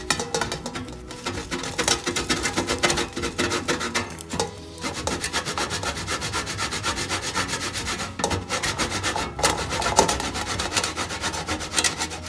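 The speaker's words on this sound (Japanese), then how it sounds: "これを削ります。 このおろし金で" Parmesan cheese being grated on a handheld grater for zucchini chips, a steady close rasping rub that runs continuously with brief pauses between strokes, no talking.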